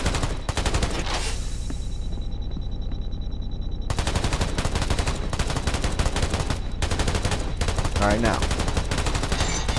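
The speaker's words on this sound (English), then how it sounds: "You want to let the turret overheat" Rapid, continuous machine-gun bursts from a turret in the video game Black the Fall, loud and dense, with a brief gap near the middle before firing resumes; someone briefly speaks over it.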